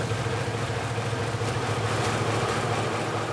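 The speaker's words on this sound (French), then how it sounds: "Vous entendez ce bruit mythique du moteur?" An X2800 railcar diesel engine runs steadily with a low, throbbing idle and constant mechanical rumble, close and loud, with no talking.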